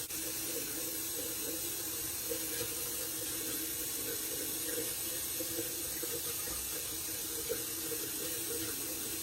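Tap water runs steadily into a bathroom sink while someone wets their face, a constant close hiss and splash with no break and no talking.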